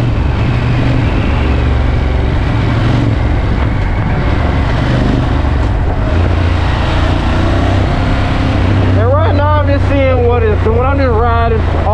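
A 2017 Ducati Monster 1200S motorcycle on a test ride, its engine droning steadily under heavy wind roar, then revving hard in a run of rising and falling pitch sweeps as it accelerates.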